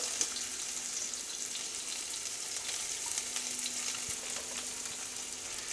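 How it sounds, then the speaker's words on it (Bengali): Sliced onions sizzle steadily in hot oil for a Kolkata-style chicken stew, a constant crackling hiss with small pops and faint stirring, close by and without talk. "এর সঙ্গে দিয়ে দিচ্ছি স্লাইস করা পেঁয়াজগুলো"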